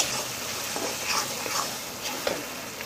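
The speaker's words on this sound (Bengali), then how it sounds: "এটিকেও ভালো করে নেড়ে নেব" Onion frying with ginger-garlic paste for a Bengali-style mutton curry, stirred in the pan: a steady soft sizzle with light scraping strokes recurring every second or so, close and moderately quiet, no voices.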